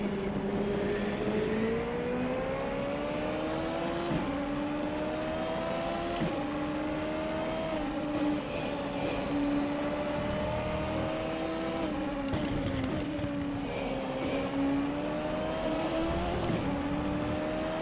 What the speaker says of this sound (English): I can't will the car to go any faster.